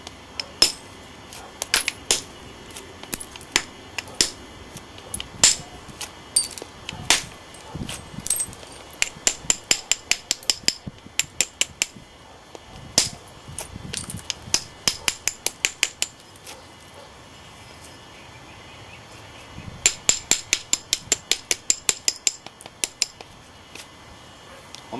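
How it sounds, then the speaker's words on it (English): Sharp, close clicks and taps of flakes being struck from a small stone biface during flintknapping, dozens of crisp strikes in irregular bursts and rapid runs over a quiet background, without any talking. "Remove a couple flakes over here."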